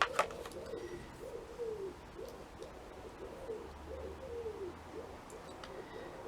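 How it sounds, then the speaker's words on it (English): Wood pigeons coo in a garden, a soft rhythmic series of low hooting phrases repeating at moderate distance, with faint background ambience and no speech. "There's the wood pigeons."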